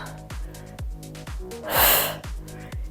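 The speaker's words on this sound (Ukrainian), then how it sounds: "Вдих. Видих наверх." Strong, close breaths in and out during an abdominal exercise workout, several quick sharp inhales and exhales in a steady rhythm with one longer, louder exhale near the middle.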